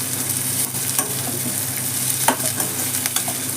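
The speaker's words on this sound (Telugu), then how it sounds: "అందులోకి 1 స్పూన్ జీలకర్ర వేసుకున్నా. జీలకర్ర ఇప్పుడే వేసుకోవాలండి, ముందే వేస్తే మాడిపోతుంది అది." Cumin seeds fry in a pan for garlic rice, giving a continuous close sizzle with occasional scraping stirs and small crackles throughout.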